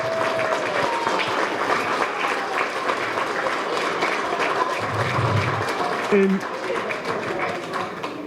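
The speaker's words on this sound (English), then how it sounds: "Round of applause again for our scouts" Continuous applause from parents and families at a Cub Scout pack crossover ceremony indoors. The clapping is dense and steady for several seconds, with brief voices and a low thump near the end.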